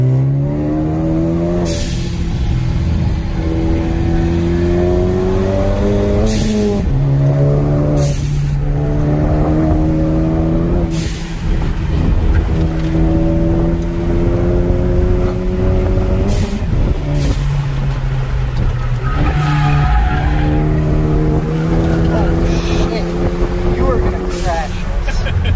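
A car drives with its engine droning and shifting pitch as it accelerates through gears, loud and steady throughout, with people talking over it.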